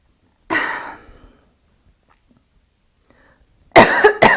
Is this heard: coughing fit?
yes